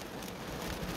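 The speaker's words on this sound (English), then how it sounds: "I'll let y'all see the rain." Steady rain falls outdoors, a dense continuous hiss of drops on surfaces with no talking.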